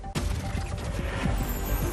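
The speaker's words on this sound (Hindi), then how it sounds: "यूक्रेन के वांशनेव इलाके में जोरदार धमाका," A sudden loud blast cracks out in Ukraine, caught on CCTV, followed by a sustained roaring, crackling rumble that fills the rest of the moment.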